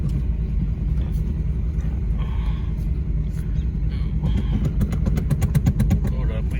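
A 1994 Pontiac Sunbird engine running rough at idle, a loud uneven rumble close by, with rapid rattling pulses building in the later seconds.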